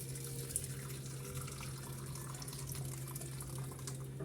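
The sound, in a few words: hot water being poured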